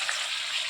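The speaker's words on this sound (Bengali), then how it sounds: "সামান্য জল দিয়ে মশলাটাকে আরেকটু কষিয়ে নেব।" Chicken masala sautéing in a pan with a splash of water, a brief close, steady sizzle.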